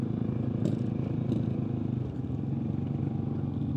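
Several motorcycles idle and rumble steadily at Port Lepak Jerung, a dense low engine drone with a few light clattering knocks mixed in.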